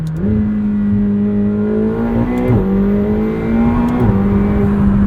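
A loud McLaren 720S sports car engine hums steadily, its pitch dropping in distinct steps as it downshifts, with brief blips between gears and no talking.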